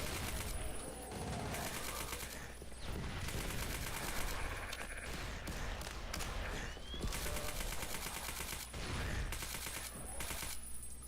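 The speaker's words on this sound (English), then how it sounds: "This is a silenced weapon." A silenced weapon fires repeatedly in the shooter game DOOM, quick muffled shots in irregular bursts amid game noise, with someone talking at times.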